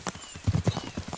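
A horse gallops in the video game Kingdom Come: Deliverance 2, its hooves thudding in a quick, uneven rhythm of heavy beats, moderately loud and close, with no talking.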